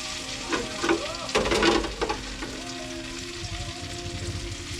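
Tortang talong, an eggplant omelette, sizzles steadily in hot oil after being flipped in the pan, with a few louder crackles and spatters early on before settling into an even, close fry.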